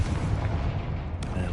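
A Confringo blasting spell bursts in Hogwarts Legacy, a loud, dense boom with a sustained low rumble and a brief sharp crack near the end.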